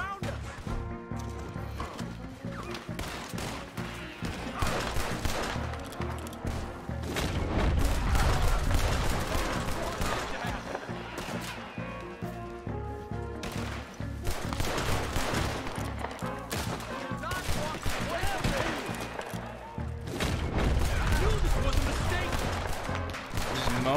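Gunfire from the Red Dead Redemption 2 video game crackles in dense, repeated volleys, with galloping horse hooves, neighing and game voices mixed in throughout a busy, loud scene.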